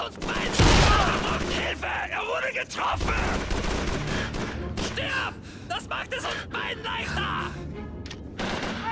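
Rapid gunfire bursts from the Call of Duty 3 war game on PS2, crackling shots and thuds running continuously with a voice talking over them.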